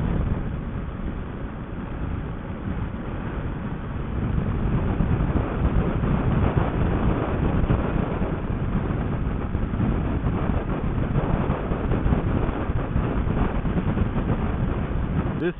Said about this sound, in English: It is windy. It's like crazy windy.